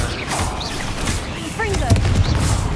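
Crucio curse spell cast in the video game Hogwarts Legacy, heard as a sustained crackling magical surge with whooshing sweeps and sharp bursts over a steady rumbling game backdrop.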